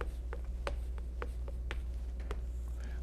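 Marker or chalk strokes on a board during an accounting lecture come as a series of short, separate scratches and taps at a moderate level, with no voice heard.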